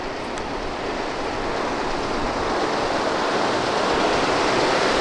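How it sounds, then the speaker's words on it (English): Brador Falls in Labrador rushes steadily off to one side, a dense, even roar of falling water that holds constant and swells slightly over the few seconds, with no voices over it. "And I can hear the falls rushing off to the right here."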